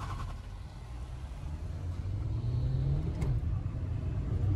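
Maruti Ciaz and Honda City cars in a drag race, an engine droning and building as the cars accelerate, heard as a steady low rumble at moderate distance.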